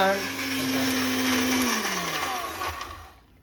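A mixer grinder whirs loudly at high speed, then its pitch slides down as it winds to a stop.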